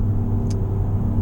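Exhaust note of a 2017 Honda Civic Sport Hatchback with CVT, a steady close rumble with a brief bright hiss partway through, no voices.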